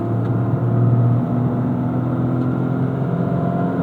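A 2025 Toyota GR Corolla Premium with an automatic transmission accelerates in track mode, its engine a steady droning hum heard from inside the cabin. It stays loud and even throughout, with no clear shift break.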